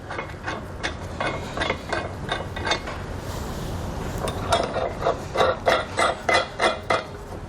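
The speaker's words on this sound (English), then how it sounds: "We'll go ahead and install these and tighten them down." Metal flange nuts on an underbed fifth wheel hitch kit are tightened with a ratcheting tool, a quick run of clicking bursts that gets louder and more regular near the end, no talking.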